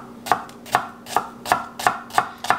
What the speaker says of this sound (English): Now what you want to do is chop up your shallots